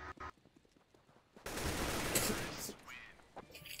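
Gunfire in a CS:GO firefight on Dust 2, a couple of sharp shots followed by a sustained burst of rapid fire at moderate loudness, then trailing off.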